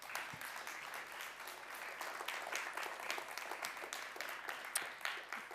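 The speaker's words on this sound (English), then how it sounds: "Mykhailo, applause first." Steady audience applause at a culture and creativity event in Helsinki, dense even clapping at moderate distance, alone without talk.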